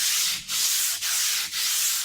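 Steady rhythmic sanding of a radius onto a guitar fretboard, long abrasive strokes back and forth with brief dips between each pass, close and loud.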